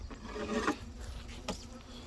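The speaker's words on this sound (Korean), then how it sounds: "말벌이 이렇게 많이 날라옵니다" Buzzing of wasps flying close by near an apiary, faint droning with a couple of brief louder passes, outdoors with no talking.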